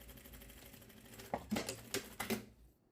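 A sewing machine backstitching the ends of a seam on fabric makes several short mechanical bursts of stitching, close and moderately loud, before stopping.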